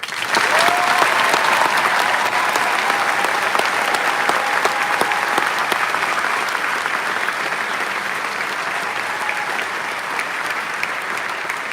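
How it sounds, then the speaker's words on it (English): Graduation ceremony crowd applauding the graduates, a large audience clapping in a sustained, even roar that holds steady for over ten seconds, with faint cheering mixed in. "Give everybody a round of applause."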